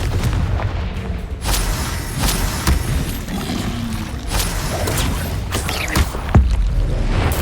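Explosive Confringo spell blasts in the video game Hogwarts Legacy, with several sharp booms and bursts scattered over a loud, busy combat din.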